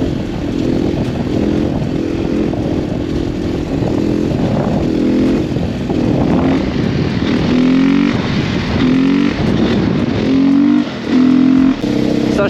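A supermotard motorcycle engine revs repeatedly, loud and close, its pitch climbing and dropping in a series of throttle blips with brief dips between them.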